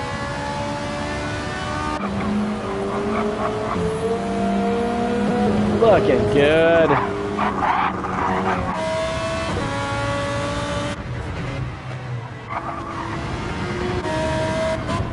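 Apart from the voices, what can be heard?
race cars driving in video game Gran Turismo 7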